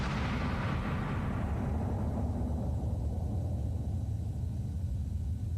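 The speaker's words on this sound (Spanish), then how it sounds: "Una explosión increíblemente atronadora." A single thunderous musket blast booms out, then rolls away into a long, fading rumble that lasts several seconds.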